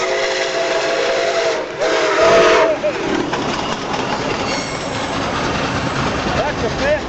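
NKP 765 steam locomotive chugging through a train station, with a loud whistle blast near the start over a continuous roar of exhaust and hiss, close and steady throughout, with people talking over it.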